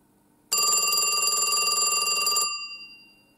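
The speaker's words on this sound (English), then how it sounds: "it's a very nice ring anyway, so anyway, I'll shut up and ring it." A mechanical bell in a 1978 Western Electric Mickey Mouse telephone rings loudly in one continuous burst of about two seconds, then its metallic tone fades away.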